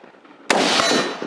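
One sharp gunshot rings out at a shooting competition stage. It has a sudden loud crack followed by a long echoing decay outdoors, and no voices are heard.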